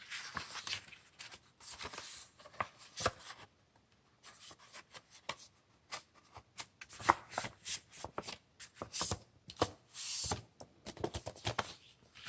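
Paper is cut to a 2.5 by 3.5 inch piece for a scrapbooking craft project, making quiet, irregular snipping and rustling close by.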